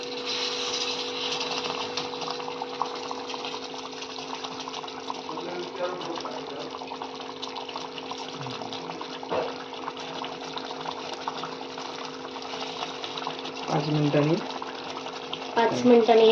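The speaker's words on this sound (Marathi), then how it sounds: "आता ह्यातलं जे गरम पाणी आपण ठेवलेलं वरती त्याच्यात आतमध्येच हळूहळू सोडूया." Hot water trickles slowly and continuously into steamed brinjal bharit in a pan, a steady close liquid pour under a constant mechanical hum, with a few clinks near the end.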